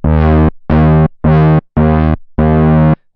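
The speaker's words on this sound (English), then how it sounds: "We can have the filter sort of change over time, and that gives us our envelope." Five sustained, buzzy synthesizer notes separated by brief gaps, each shaped by a filter envelope that brightens and settles over time, loud and close with no speech.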